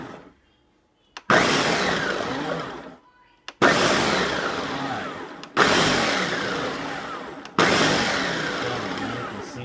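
A Nutri Ninja blender chops spinach in four loud pulses of about two seconds each, every burst starting with a sharp roar that fades slightly before stopping abruptly, with short silent gaps between.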